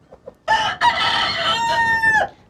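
A Sussex hen gives a loud, close, drawn-out squawking cry with a sustained tonal wail, preceded by a couple of soft clucks.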